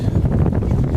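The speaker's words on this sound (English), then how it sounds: "It's a very windy day out today." Wind at a beach on Sarasota Bay buffets the microphone in a constant low, blustery rumble for a brief moment.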